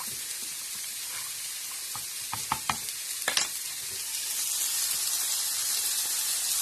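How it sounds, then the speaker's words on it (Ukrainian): Steady frying sizzle with a burst of stirring and splashing as water and sour cream are poured over liver in the hot pan, the hiss swelling louder afterward. "Заливаю печінку на маленький вогонь"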